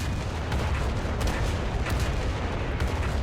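The KV-2 tank cannon in War Thunder firing with an unlimited fire rate, a dense, continuous low rumble of heavy shots and booms close up, with no talk over it.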